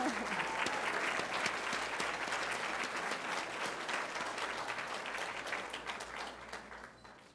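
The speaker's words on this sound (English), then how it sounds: "Let's give her a round of applause." Audience applause at a convention and visitors bureau awards ceremony, a dense wash of many hands clapping that holds steady for several seconds and then gradually thins and fades toward the end.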